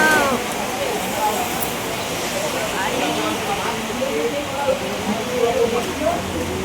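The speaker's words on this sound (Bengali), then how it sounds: "এত বৃষ্টি বাড়ি যাওয়া যাচ্ছে না তো" Heavy rain pours steadily beside a highway, a dense, even hiss throughout with faint voices murmuring underneath.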